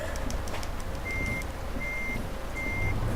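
Three evenly spaced electronic reversing beeps from a truck in Euro Truck Simulator 2, clear over a steady low engine rumble, no voices.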